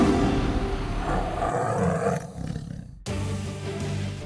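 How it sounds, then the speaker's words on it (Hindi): A tiger's deep, loud roar, rumbling and drawn out, breaks off for a moment and then comes back with a powerful low growl. "बाघों की यही दहाड़ रोमांच पैदा करती है और खौफ भी"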